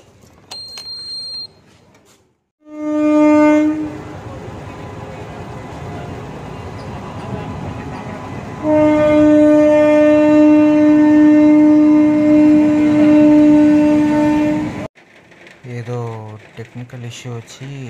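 A goods train stopped at a railway crossing gate in light rain sounds a long, loud, steady horn in two blasts with rumbling underneath, close by, followed by a short burst of other noise.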